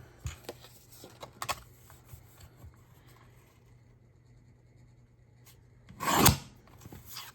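Junk mail envelope paper being trimmed: faint, close rasping and rubbing strokes in short bursts at first, a quiet stretch, then one loud, sharp slicing rasp near the end. No talking.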